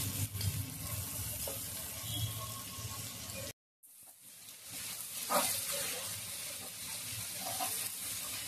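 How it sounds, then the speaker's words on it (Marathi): Water poured into a pan of prawns frying in oil, a loud sizzle and bubbling rush that briefly cuts out and then returns as a steady hiss of simmering liquid, close up with no talking. "आता या कोळंब्या शिजण्यासाठी यामध्ये मी पाणी घालते।"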